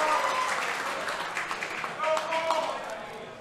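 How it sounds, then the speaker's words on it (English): An audience at the X-wing World Championships 2018 claps in a steady wash of applause that fades gradually over a few seconds. Voices can be heard underneath the clapping. "we got the claps"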